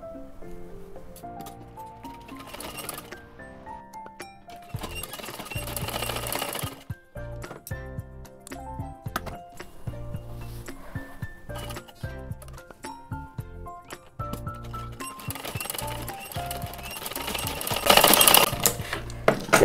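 A sewing machine stitches a stiff buckram piece onto a kurta collar, a steady rhythmic mechanical whir running in bursts beneath prominent melodic background music, growing loudest near the end.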